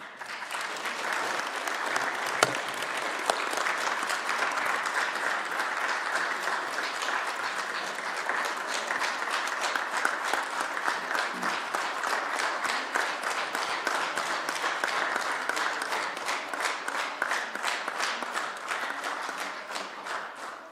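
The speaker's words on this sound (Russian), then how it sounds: "Нурланбек Тургунбек Улу навсегда покинул президиум спикера под жидкие аплодисменты коллег" Thin, steady applause from colleagues in a parliament chamber as the outgoing speaker leaves the presidium, a continuous patter of clapping at moderate level from start to finish with no talk over it.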